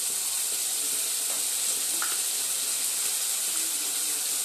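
Crab curry spices sizzling in a hot pan, a steady bright hiss of frying with faint scrapes of stirring running throughout, close and continuous.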